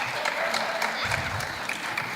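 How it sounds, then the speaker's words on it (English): A room of people applauds after a ticket-number drawing at an event. The clapping is brief and moderately loud, with a few sharper individual claps standing out above the crowd. "Let's give him a round of applause."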